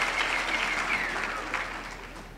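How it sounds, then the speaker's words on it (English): Audience applause at a university graduation ceremony, a steady wash of many hands clapping in a large hall, fairly loud and continuous, with no distinct voices over it. "Mr. Neo Masilubele, please give me a quick round of applause."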